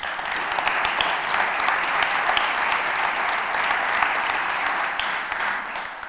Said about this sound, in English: Let's give all of our donors a round of applause.